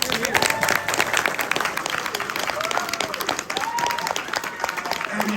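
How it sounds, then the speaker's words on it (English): A convention audience at a cast panel for the 1974 Texas Chainsaw Massacre breaks into steady, loud applause, dense clapping filling the room throughout with some crowd voices mixed in. "And to the guys who aren't here, a round of applause, please."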